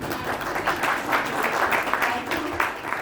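A crowd applauding steadily, a dense wash of clapping that holds at an even level throughout.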